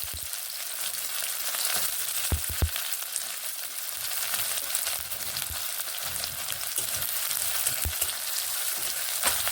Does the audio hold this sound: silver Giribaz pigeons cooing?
no